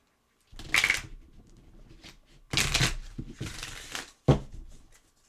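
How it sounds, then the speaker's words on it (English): Oversized playing cards are shuffled up close in three bursts of rapid riffling, each a loud flurry of flapping, separated by brief quiet pauses. "Get a nice shuffle going on in these good cards."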